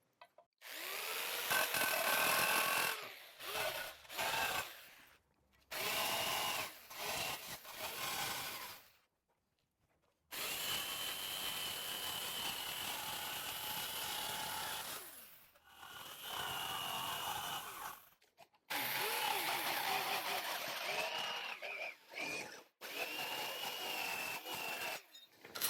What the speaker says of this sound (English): I'm going to do a couple little relief cuts in here just so when I'm going around, the metal's going to fall off